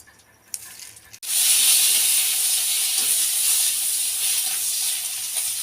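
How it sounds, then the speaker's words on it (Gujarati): Curry leaves hit hot oil with a sudden loud burst of sizzling that keeps crackling and hissing steadily, close by. "લીમડાને પાન તળ્યા જુઓ"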